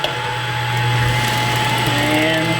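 A vacuum runs steadily to clean the stone of a cutter grinder, giving a loud, close, constant whirring drone with a faint tonal whine and no voices.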